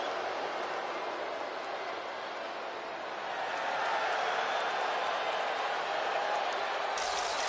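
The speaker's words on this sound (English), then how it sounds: "Tiffany Stratton getting a warm welcome from this home crowd" An arena crowd in the WWE 2K25 video game gives a steady, roaring cheer. The noise swells midway and holds loud as the wrestler is welcomed.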